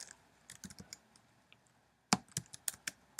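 Keys clatter on a computer keyboard as a search query is typed, a scatter of light clicks, a pause, then a faster, louder burst of close keystrokes.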